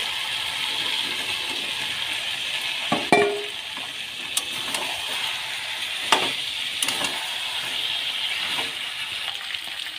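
Mutton and fried potatoes stir-frying in a pan for a spicy red goat curry, a steady close sizzle with a few sharp scrapes and clatters of the spatula, no talking.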